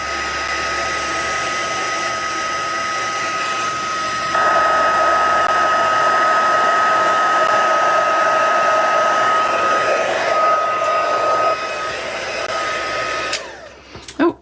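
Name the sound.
heat tool melting embossing powder for heat embossing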